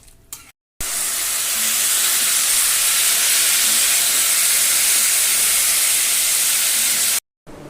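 Steady, loud sizzling hiss of chicken boiling or cooking on a home kitchen stove, continuous for several seconds after a brief pause, with short silent gaps at the start and end and no talking.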